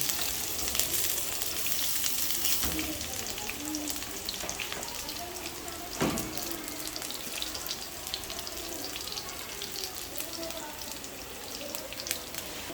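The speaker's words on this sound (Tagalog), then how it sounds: "Gigisa lang natin ang sibuyas. So, ilalagay na natin ang isang pirasong sibuyas na hiniwa-hiwa natin. Isabay na natin ang bawang." Sliced onion and garlic sauté in a pan for ginisang monggo, giving a steady broadband sizzle with scattered crackles and a few sharper pops, heard close and continuous with no talking.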